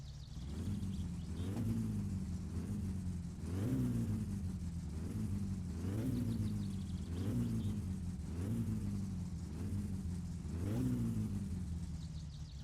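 A car engine idling in the game My Summer Car, a low, rough rumble that swells and dips in a regular pulsing rhythm, steady and moderately loud with no talk over it.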